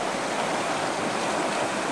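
The Scott River in northern California rushes steadily past, a continuous close wash of flowing water with no pauses and no voices.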